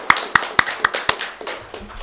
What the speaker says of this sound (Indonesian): Boleh tepuk tangan dong.